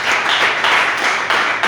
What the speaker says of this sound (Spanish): Puede darle un fuerte aplauso al Espíritu Santo